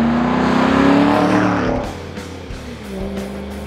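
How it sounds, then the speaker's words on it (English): A 2005–2010 Ford Mustang GT with a 4.6-liter V8 and a Flowmaster Outlaw Series axle-back exhaust revs loudly with a deep, rumbling drone, then the engine note drops and settles into a lower burble near the end. "It features the race-proven Outlaw Series mufflers that provide an incredibly deep and rich sound to match the image of these true muscle cars"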